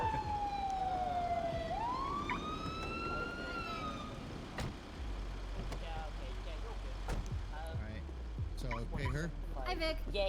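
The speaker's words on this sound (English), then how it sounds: "I'll turn off the siren" A police siren in a video game wails, sweeping up and down at first, then cuts off, leaving a low rumble and talking voices.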